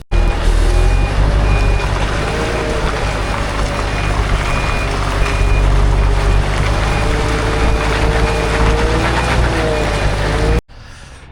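A bulldozer being loaded onto a lorry, with a loud heavy engine drone and wind buffeting throughout and a faint repeating reversing beep over the top, running steadily for about ten seconds before cutting off.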